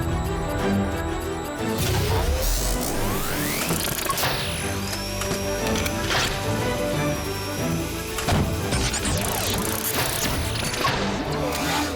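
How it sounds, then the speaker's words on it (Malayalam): Cartoon robot R7 transforms into the Super Speedo car with a dense run of whirring, ratcheting and clicking mechanical effects, rising whooshes and metallic sweeps, loud and continuous for about twelve seconds under music. "R7 സൂപ്പർ സ്പീഡോ കാറായി മാറട്ടെ."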